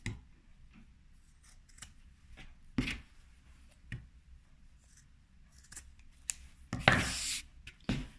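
Scissors snip through fabric in a few separate cuts while making a pencil case, crisp close-up clicks and rustles against a quiet background.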